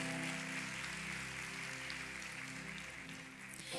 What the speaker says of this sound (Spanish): ¿Le pueden dar un aplauso?